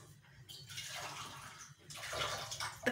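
Water poured from a glass into meat browned in ghee for a Pakistani namkeen gosht, making two soft sloshing, splashing pours, close and fairly quiet with no talk.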